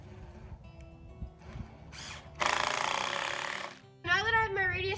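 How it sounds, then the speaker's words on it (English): A power drill drives a screw into 2x4 boards, a loud sustained whirring burst midway after a few knocks and handling sounds, followed by someone speaking close by. "I'm going to take some screws and screw this together."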